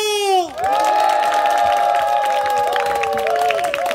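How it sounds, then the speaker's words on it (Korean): An audience at a health forum for people with disabilities claps and cheers loudly for several seconds, a dense crowd roar with whoops. "그렇게 한번 박수 한번 쳐볼게요"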